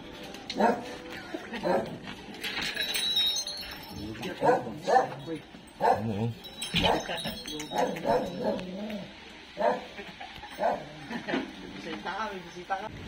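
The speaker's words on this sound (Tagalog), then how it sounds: "Uy, aso." A dog barks repeatedly at a middle distance, short yips and woofs scattered through the clip while people talk over them outdoors.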